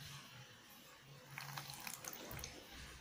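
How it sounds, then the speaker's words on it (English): Hot water is poured into a bowl to make dalgona coffee: a faint, brief splashing trickle in the middle of a quiet, hissy background, with no voices. "Then give it the hot water into the bowl."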